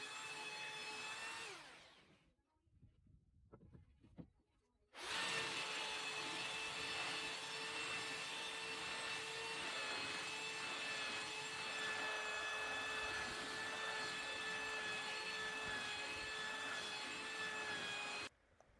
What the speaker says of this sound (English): an hour and a half of me just sanding pallet boards down